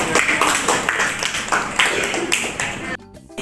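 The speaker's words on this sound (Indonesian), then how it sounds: "kita berikan aplaus untuk kelompok 2" A classroom of students claps for a presenting group, a burst of close, dense hand clapping mixed with a few voices that breaks off abruptly near the end.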